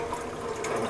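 Water running steadily while gluten dough is rinsed by hand to wash out the starch, a continuous close splashing flow.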